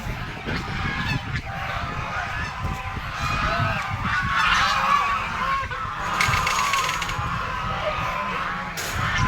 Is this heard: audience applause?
no